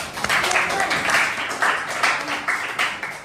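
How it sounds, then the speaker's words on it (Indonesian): A classroom of students applauds, dense clapping in pulsing bursts that continues steadily for a few seconds. "kita beri tepuk tangan untuk"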